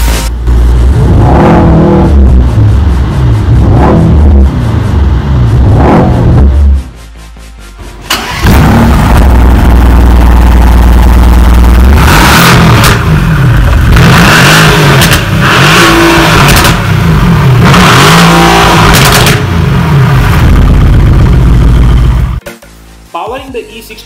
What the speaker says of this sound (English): it is now time to start the engine and listen to the beast growl